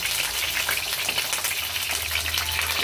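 Steady, close-up crackle and hiss of tilapia frying in hot oil in a pan, continuous and fairly loud with no voices.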